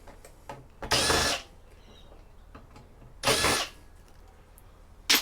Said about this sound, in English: I really like my two drill setup